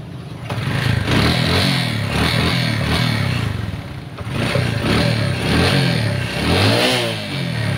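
A carbureted Honda XRM 125 motorcycle fires up and revs loudly at close range, the engine note rising and falling in repeated throttle blips across the whole stretch.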